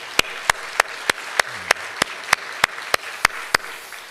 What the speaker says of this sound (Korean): 우리 한번 큰 격려의 박수 보내도록 하겠습니다